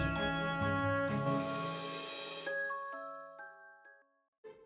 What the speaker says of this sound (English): did you like the new jingle?